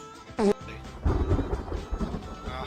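A thunderstorm rolls through the survival game The Forest. A sharp crack is followed by a deep, rumbling roll of thunder that lingers for a couple of seconds.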